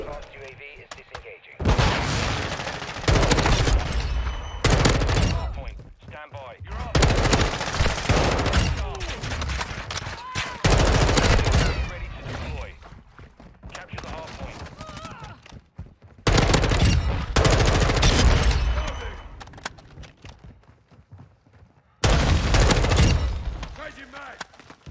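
M4 rifle bursts in Call of Duty MW2, loud close automatic fire in repeated clusters separated by short quiet gaps, with brief voice chatter mixed in.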